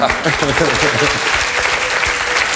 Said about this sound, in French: elle est là, Maribel, on l'applaudit.